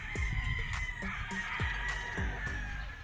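A gray yellow-legged stag rooster of Pecom early bird stock crows at a game farm, close and loud, with other fowl clucking and calling around it and no talking.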